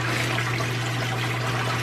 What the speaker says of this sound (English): empty out of the washer to do the first rinse cycle